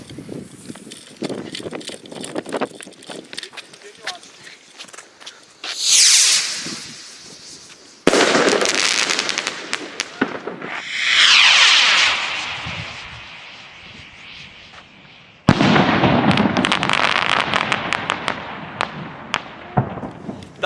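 Nico Rocket Rallye firework rockets launching with rising whooshing hisses, each followed by loud crackling, popping bursts, several in succession, close by and loud against outdoor background.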